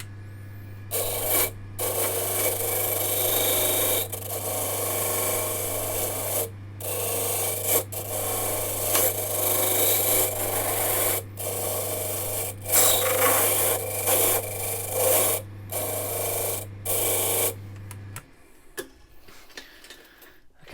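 A cut mortice key is filed by hand with a rough, rasping back-and-forth, the strokes close and loud with short pauses between them over a low steady hum, ending in quiet.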